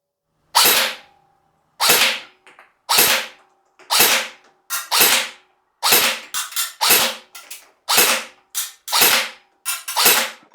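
Bear River Black Ops SR4 CQ AEG airsoft rifle fired in the field, about a dozen sharp close cracks in an uneven rhythm, some shots in quick pairs.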